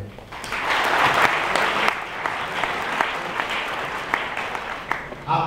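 Sustained audience applause filling a lecture hall after a speaker's call for a loud round of clapping, steady and dense through most of the stretch, easing slightly toward the end.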